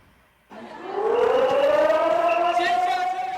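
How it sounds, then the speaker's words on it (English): An air raid siren starts up outdoors on the streets of Taiwan during an annual air raid exercise, climbing steadily in pitch as it winds up, wailing loudly and sustained over faint background noise. "Sirens sounding on the streets of Taiwan Monday as troops kicked off the week with an annual air raid exercise"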